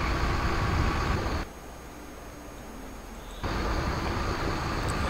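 A simulated train in Microsoft Train Simulator runs past at trackside near 70 km/h, heard as a steady broadband rumble and hiss that drops sharply for about two seconds before returning at full level.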